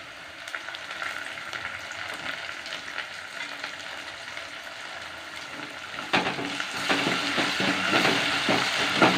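Onions with ginger garlic paste frying in a pan for a goat head curry, a steady close sizzle that grows louder and more crackly partway through, with occasional stirring scrapes and no voices.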